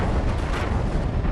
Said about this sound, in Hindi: इजराइल की तोपें लगातार गरज रही है और गाजा पट्टी पर बम बरसा रही है।